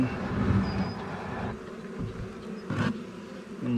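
Honeybees from a swarm drone steadily around hive frames as they are installed into a box, a dense continuous buzz close to the microphone with a brief swell of louder noise near the end.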